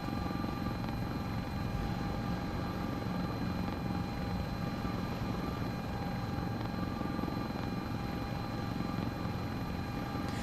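A Sikorsky S-76C++ helicopter in Microsoft Flight Simulator 2024 on a North Sea group flight drones with a steady, unbroken engine and rotor hum, holding level and constant throughout without any voices.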